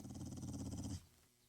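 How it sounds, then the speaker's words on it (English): Dog growling in the video game 7 Days to Die: a faint, low, rumbling snarl lasting about a second, then fading to quiet background, with no talking. "That's a dog growling."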